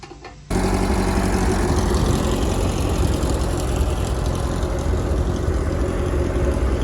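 An old VW rail buggy engine catches and runs, cutting in abruptly after a brief quiet moment, then a loud, close, rough and steady idle continues without talk.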